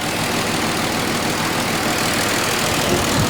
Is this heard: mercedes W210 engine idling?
yes